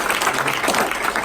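A church congregation claps in a brief, dense burst of applause that fills the room, loud and continuous for about a second.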